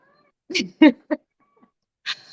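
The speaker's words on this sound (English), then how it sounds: "I got a crazy cat back here." A cat yowls in several short, loud, strained bursts close by, with brief gaps between calls and a final cry near the end; no talk over it.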